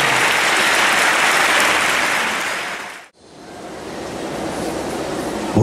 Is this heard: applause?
yes